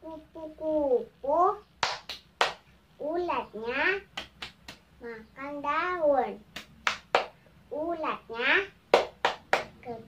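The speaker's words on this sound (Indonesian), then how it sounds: "Kali ini saya akan memperagakan tepuk kupu-kupu" A child performs the Indonesian butterfly clapping routine at a kindergarten, sharp hand claps punctuating her sung and chanted verses in a rhythmic pattern, close and clear against a quiet room.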